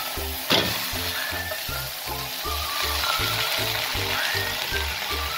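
Pork loin sears in a pan over a high flame, giving a steady close sizzle and frying crackle with a regular pulsing rhythm throughout.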